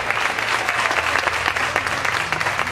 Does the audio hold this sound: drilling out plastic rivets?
no